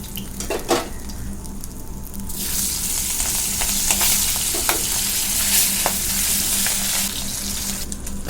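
Pieces of katla fish fry in a pan with a loud steady sizzle, while a utensil scrapes and clinks against the pan as they are turned.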